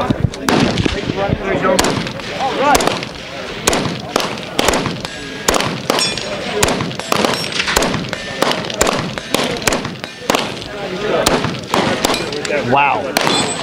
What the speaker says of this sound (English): That is super soft shooting